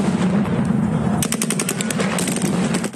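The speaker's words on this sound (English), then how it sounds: "dispersing the crowds with live rounds" Russian troops fire live rounds to disperse crowds in Kherson, Ukraine: a low rumble gives way to rapid automatic bursts of sharp cracks, fairly loud and continuous.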